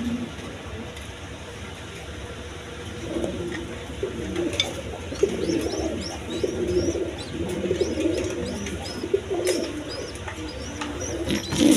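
A pair of black beauty pigeons coo softly and repeatedly at close range, their low throaty calls rising and falling over a faint background hum, with occasional small chirps.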